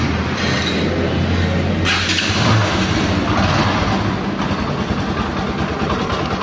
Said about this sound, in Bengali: এটা ফ্রি অ্যাক্সিলারেটরের ইঞ্জিনের সাউন্ড, ফ্রি অ্যাক্সিলারেটরের সাইলেন্সারের